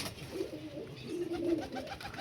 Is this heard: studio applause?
no